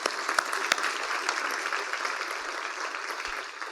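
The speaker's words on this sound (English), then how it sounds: "Let's give them a round of applause as well." An audience at a civic State of the City event gives a steady round of applause, a dense wash of many hands clapping that fades slightly toward the end.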